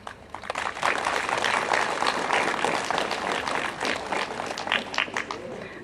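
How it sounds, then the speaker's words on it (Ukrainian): An audience at a first-day-of-school ceremony at a vocational lyceum applauds the first-year students, giving a dense, sustained round of clapping that runs for several seconds. "Оплески першокурсникам."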